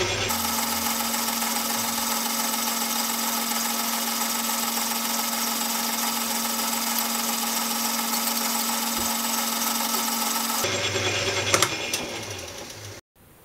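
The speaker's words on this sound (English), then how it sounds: "So now we've got the whole spindle assembly back in the lathe to remove the excess rubber from the fuel line." A lathe machines excess rubber off a Citroen 2CV wiper spindle assembly, giving a steady, close mechanical whir for about ten seconds before it shifts, clatters briefly and stops.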